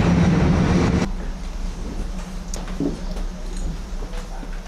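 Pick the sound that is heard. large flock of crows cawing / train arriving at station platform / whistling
train arriving at station platform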